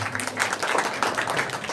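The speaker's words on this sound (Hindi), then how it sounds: "जोरदार तालियां।" A brief burst of audience clapping at a school naat competition, a short, fairly close round of applause lasting under two seconds.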